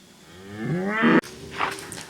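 A cow at a dairy farm lets out one loud, close moo that swells and cuts off sharply, followed by quieter rustling and faint farm noise.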